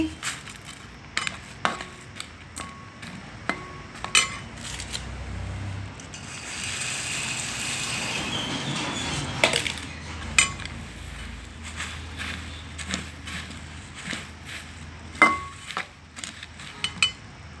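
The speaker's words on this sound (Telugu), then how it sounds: "ఇప్పుడు ఈ బెల్లం పాకంలో ఈ బొంగులు పోసుకొని కలుపుకోవాలండి" Puffed rice is stirred into hot jaggery syrup in a pot: a steady run of scraping spoon strokes and metal clinks against the pot, with a softer rustling stretch in the middle, no talk.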